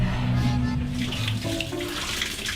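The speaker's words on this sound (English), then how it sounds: "Can you check if hot water's coming out the sink, please?" A kitchen sink tap runs, giving a steady, broadband rush of water that stays fairly even throughout, over a low mechanical hum in the background.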